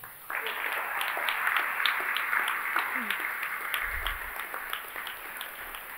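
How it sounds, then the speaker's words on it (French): A theatre audience at a staged trial of Antigone applauds a juror being introduced. The crowd gives sustained clapping with distinct individual claps, and a voice speaks over it. "je vous demande d'applaudir Xavier Prévost"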